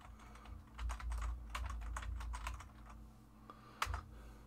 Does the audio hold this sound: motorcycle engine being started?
no